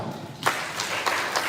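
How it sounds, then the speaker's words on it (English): An audience at a live event claps for Tina in a brief, thin patter of a few scattered hand claps at moderate distance, starting softly and fading quickly. "Can we clap for her?"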